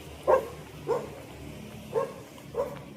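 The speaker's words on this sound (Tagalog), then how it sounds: "May aso sa tahon." A dog barks four times at uneven intervals, moderately near, over a quiet background.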